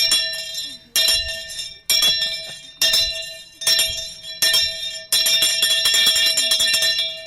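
A bell rings repeatedly at an award ceremony for a best graduating student, sharp metallic strikes arriving in a regular series of bursts, each ringing on before the next, growing denser toward the end.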